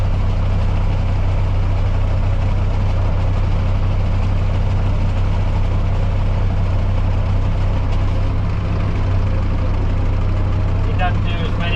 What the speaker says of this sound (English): I don't drive this tractor very often, but we use it for the spraying and fertiliser spreading.